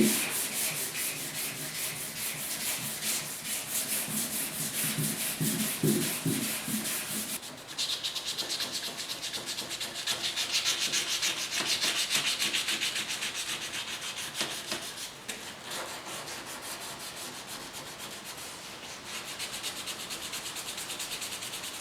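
Continuous sanding on the tailgate of a 1972 Ford 4x4 pickup, a loud close rasping hiss with shifting strokes and brief pauses in pressure, no talking.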